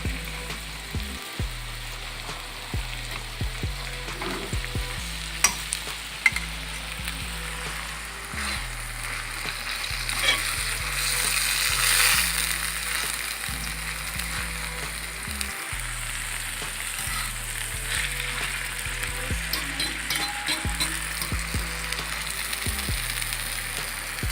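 Ackee and salted fish sizzling and frying in a pan as it is stirred, a steady close crackle with periodic scraping strokes of the spoon, no talking.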